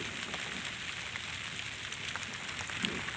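Heavy, continuous rain falls on a waterlogged chili field, a steady dense hiss of drops with scattered sharper splashes, close and even throughout, with no voices.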